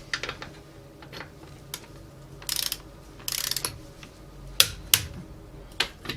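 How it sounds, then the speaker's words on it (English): Torque wrench tightening the wheel nuts on a Nissan Leaf after a rear disc brake and parking brake service, giving a few sharp separate clicks and short ratcheting bursts against a quiet background. "just torquing the wheel nuts up now"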